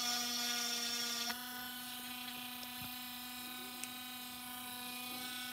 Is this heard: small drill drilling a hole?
yes